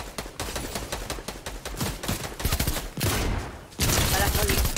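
Rapid bursts of Fortnite gunfire crackle continuously in a dense, loud barrage, volleys overlapping like a firefight, with heavier blasts near the end.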